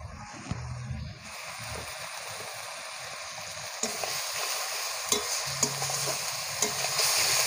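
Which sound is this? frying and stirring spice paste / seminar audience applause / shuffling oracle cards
frying and stirring spice paste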